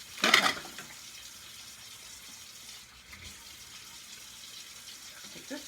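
A short gush of running tap water rinses a plastic vegetable slicer part at a kitchen sink, loud for a moment near the start, then fading to a faint, quiet background.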